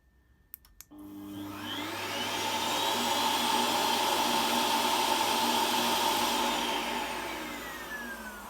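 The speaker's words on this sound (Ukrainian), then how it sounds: "Пилосос, кнопка." A vacuum cleaner switches on after a couple of clicks, whirs up to a loud steady roar, then begins winding down near the end.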